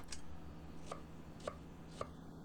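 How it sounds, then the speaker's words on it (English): A knife roughly chops an onion on a cutting board, three distinct thuds spaced about half a second apart, fairly quiet over a low steady background hum. "I'm going to go with a more of a larger rough chop here"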